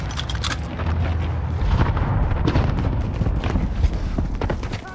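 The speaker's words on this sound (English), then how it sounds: "Airstrike, precision." A precision airstrike in Call of Duty: Warzone on Fortune's Keep lands as a dense, continuous run of loud, rumbling explosions that overlap with no quiet gaps.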